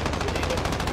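Rapid automatic fire from a P90 submachine gun in the video game Modern Warfare, a dense, continuous burst of close, loud shots filling the whole short moment.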